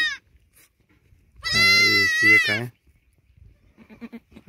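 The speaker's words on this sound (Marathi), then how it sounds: "शेळी येले बघा मित्रांनो, 3 पिल्ली झालेली" A newborn goat kid, one of triplets a minute old, lets out a loud, wavering bleat up close, followed by softer, brief bleats, with a voice speaking briefly at the start.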